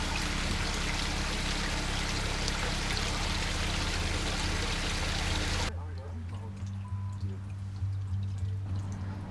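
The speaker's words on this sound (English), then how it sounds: "With the gold cube, you just take all your minus 1/8 material and just pretty much dump it right on top." Gold concentrate material of minus 1/8 inch is dumped onto a Gold Cube with flowing water, a loud continuous rushing pour that cuts off abruptly partway, leaving a quieter low hum and faint trickle.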